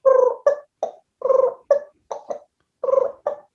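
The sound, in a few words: man vocally imitating a turkey yelp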